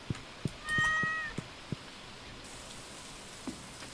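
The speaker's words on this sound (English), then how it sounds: "Oh, I forgot to pet the cat." A cat in the farming video game Stardew Valley meows while being petted, one short tonal call standing out over a soft patter of raindrops and light clicks, with no talking.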